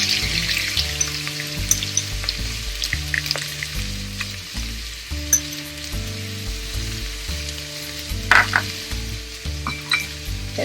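Red lentils (masoor dal) sautéing in a pan over a high flame give a steady, close crackling sizzle with occasional stirring scrapes, under a low background of music.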